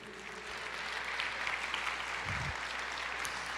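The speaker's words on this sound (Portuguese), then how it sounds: "Você pode aplaudir o Senhor e dizer, eu creio." A church congregation claps in a soft, distant wash of applause that swells slightly and holds steady, with a brief low thump partway through.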